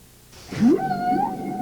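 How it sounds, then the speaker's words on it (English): A whale calls alone in a long, rising and falling tonal moan, then a few shorter sweeping notes, fairly clear over a quiet background. "The song of the great whales can be heard for hundreds of miles."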